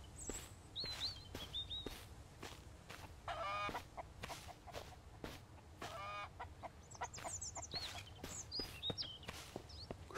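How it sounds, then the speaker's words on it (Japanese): Chickens cluck and crow in the survival horror game Mist Survival, scattered soft clucks and calls against a quiet outdoor ambience, with light footsteps moving about. "ニワトリもいる。"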